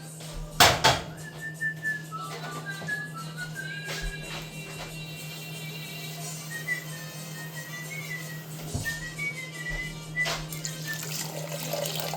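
Water runs steadily from a kitchen tap into a sink while rice is being cooked, a constant close hiss with a low hum beneath it, broken by a few brief clatters and a faint whistling tone.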